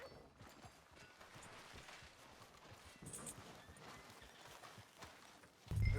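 Horse hooves clip-clop at a steady walking pace through a Red Dead Redemption 2 town street, moderately close, with a brief loud low thump right at the end.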